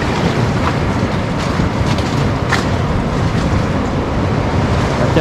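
Sea waves roll onto the shore at Lazarevskoye near Sochi on a day with no storm but a not-quite-calm sea. The surf is a steady, continuous wash with wind noise across the microphone and no talk.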